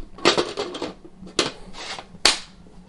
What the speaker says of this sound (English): And that click means that it's locked.